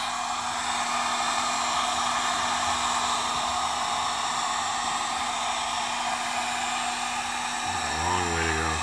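Heat gun blasting hot air steadily onto a bent plastic hose fitting on a parts washer setup, a constant loud rushing whoosh throughout, with a brief shifting whine near the end.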